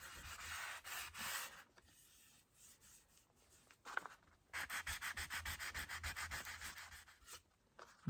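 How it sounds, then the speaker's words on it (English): Sandpaper rubbed along the edge of a cured resin lazy susan, close and rasping, with irregular strokes at first and then a steady run of quick rhythmic back-and-forth passes. "You want to keep your sandpaper as flat as possible on this edge."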